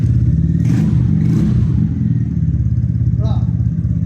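A 2015 Yamaha X-Max 250 scooter idles close by with a steady low engine thrum and light mechanical clatter, running on throughout while someone speaks over it.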